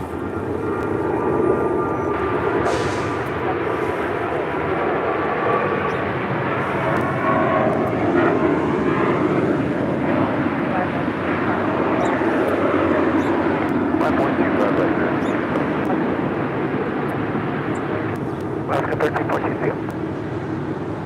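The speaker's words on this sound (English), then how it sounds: "That was Alaska Airlines Flight 1342 heading to Cabo" An Alaska Airlines Boeing 737-800 departing LAX for Cabo sends out a sustained, loud jet engine roar with shifting tonal whine, and a person talks over it at times.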